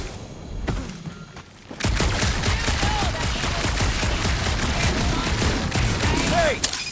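Sustained rapid gunfire bursts in the Guardians of the Galaxy action video game, loud and dense after a quieter dark opening, with characters speaking briefly over the shooting.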